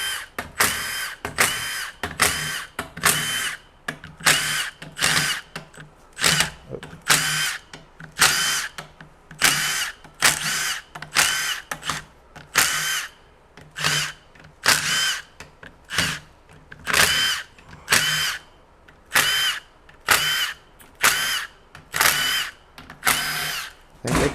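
A power drill spins out bolts from the transmission of a 2003 Ford F-150 Triton 4WD 5.4L, in many short loud whirring bursts separated by brief pauses, close up with no talking.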